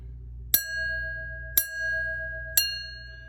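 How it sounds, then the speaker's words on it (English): An antique bell struck right beside a hole in its body rings three times about a second apart, each bright metallic strike holding a clear sustained tone that fades slowly, heard close and alone. "I'm going to actually ring the bell right by the hole."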